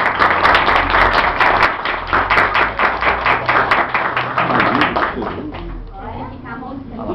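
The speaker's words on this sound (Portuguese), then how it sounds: "uma salva de palmas para ele" A group claps in a round of applause for a boy, dense and steady for several seconds before thinning out, with voices talking over the clapping.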